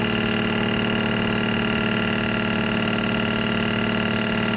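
An FMI pump runs continuously as it pumps liquid for calibration, giving a dense, steady mechanical hum and whir that stays even and loud throughout, with no talk.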